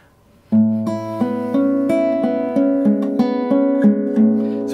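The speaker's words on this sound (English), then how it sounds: "So it sounds like this hypnotizing cascading of notes." A guitar is fingerpicked in a P-A-M-I arpeggio pattern, sounding steady cascading notes in an even repeating rhythm, close and clear with no talking.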